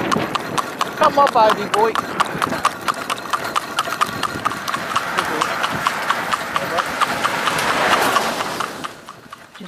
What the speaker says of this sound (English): Giving him a little canter here to prove that you can stop him.